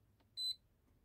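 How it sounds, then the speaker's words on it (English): An induction stove sounds a single clear electronic beep of about a quarter second when plugged in, alone in a quiet room. "See there, the buzzer goes off."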